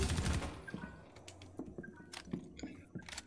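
Gunfire in the Rainbow Six Extraction video game: a loud opening burst, then scattered sharper shots and clicks at moderate volume with quieter gaps between them.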